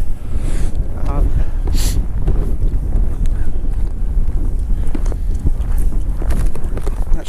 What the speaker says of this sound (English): if you can hear that wind, but man, it is blowing really hard right now.